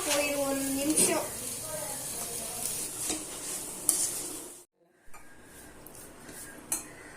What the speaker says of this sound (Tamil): வெஜிடபிள்ஸ் ஆட் பண்ணதுக்கப்புறம் நம்ம லேசா வதக்கினா போயிடும், 1 நிமிஷம்.